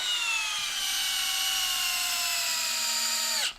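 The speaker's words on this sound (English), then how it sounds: "We're going to switch over to the brushless hammer drill." A Hilti brushless hammer drill bores into a log with a loud, steady high-pitched whine, its tone easing slightly lower under load before the trigger is released and it winds down at the end.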